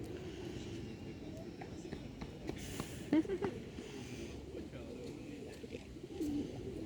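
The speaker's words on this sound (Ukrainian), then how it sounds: "Ці голуби прикольні." Soft pigeon coos over a steady outdoor murmur in a town square where the birds are fed, with faint voices and rustling nearby; a slightly louder burst of cooing midway.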